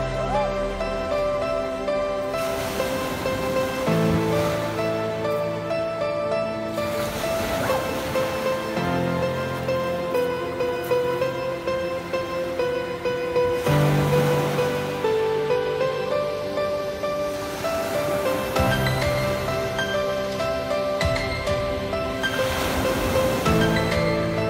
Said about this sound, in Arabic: البحر